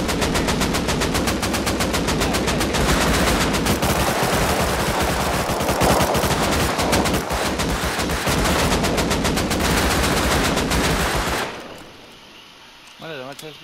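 Sustained rapid video game gunfire hammers at a wooden door, loud, dense bursts of automatic shots running for about eleven seconds before cutting off abruptly, followed by quieter talk and game sounds.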